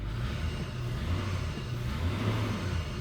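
A 2000 Ford F150 with a misfire code on cylinder one rumbles as it gets a little gas, a low, fairly quiet engine drone that swells slightly and stays steady.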